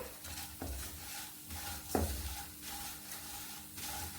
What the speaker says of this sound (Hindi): इस तरह से लगातार चलाते हुए सभी चूड़े हमारे भून चुके हैं